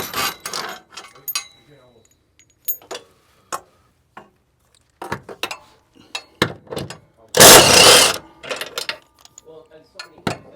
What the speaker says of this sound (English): I'm going to go ahead and loosen it from up here and get that bracket loose.